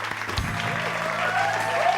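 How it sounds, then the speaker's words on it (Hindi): A studio audience at a TV show applauds the band, a short burst of dense clapping heard up close, with a few faint musical tones beneath it. "हमारे बैंड वालों के लिए जरा तालियां हो जाए"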